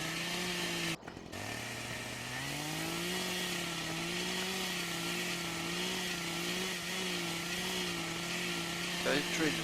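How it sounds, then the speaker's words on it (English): A chainsaw started in the video game Farming Simulator 2013 for forestry work, its motor idling in a steady wavering drone after a brief sharp burst, with people talking over it. "you gotta press X and then hit the trigger to turn the chainsaw on"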